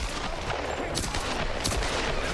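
Rapid, dense gunfire from a Tomb Raider game fight, a steady barrage of overlapping shots with a few sharper bursts standing out, loud and continuous throughout.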